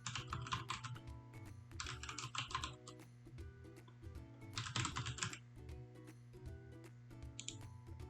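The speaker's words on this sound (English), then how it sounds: "Type your username, then type your full name." Someone types a username on a computer keyboard while creating a new user during operating system setup. Bursts of rapid, close key clicks are separated by short pauses over a steady hum, with no voices.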